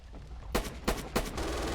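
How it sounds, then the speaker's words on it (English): Machine gun fire in the Red Orchestra 2 war game, three distinct bursts of gunfire at roughly even intervals over a constant rumbling battlefield background, fairly distant and moderately loud. "There's a fucking MG over here somewhere."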